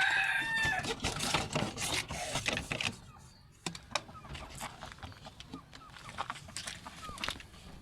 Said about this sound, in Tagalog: Meron tayong labuyo dito.